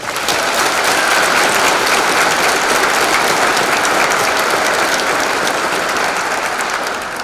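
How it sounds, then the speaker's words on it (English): Sustained loud applause from a crowd at an online high school graduation ceremony, dense continuous clapping that holds steady for several seconds before easing slightly at the end. "So, round of applause for them."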